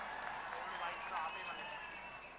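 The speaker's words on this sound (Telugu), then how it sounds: "గట్టిగా చప్పట్లు కొట్టి స్వాగతాన్ని తెలియజేయాల్సిందిగా కోరుతా ఉన్నాను" A crowd applauds to welcome Telangana Chief Minister K. Chandrashekar Rao at the launch of the sheep distribution scheme in Kondapaka. The dense, steady applause is mixed with loud crowd noise and voices throughout.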